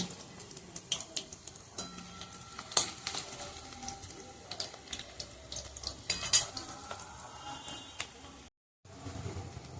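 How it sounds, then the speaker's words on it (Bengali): Diced ginger sizzles steadily in hot oil, with occasional clinks and scrapes of a utensil against the pan. "এখন তেলের মধ্যে আমি প্রথমেই দিয়ে দেবো আদা"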